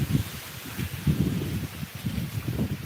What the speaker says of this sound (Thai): วันนี้ลมแรงครับ ลมแรงมาก